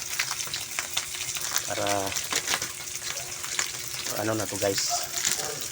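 Dried fish (tuyo) frying in a pan for breakfast, a steady close sizzle and crackle running throughout, with a voice speaking briefly over it.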